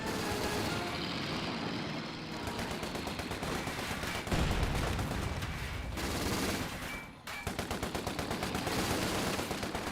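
Rapid machine-gun fire rakes a Volkswagen vehicle in the strategy game Company of Heroes 2. Dense, loud bursts of gunfire rattle over a rumbling engine, pausing briefly before the clattering volleys resume.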